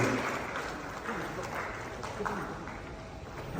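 Applause from a convention audience in a Hilton Colombo hall: a steady, dense wash of many hands clapping that carries evenly through the moment at moderate volume.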